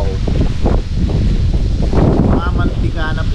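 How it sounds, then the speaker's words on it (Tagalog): Outdoor wind gusts roar across an open grassy field, loud buffeting rumble and rustle hitting the microphone continuously while a voice talks over it. "Sarap dito, mahangin mga kabayan."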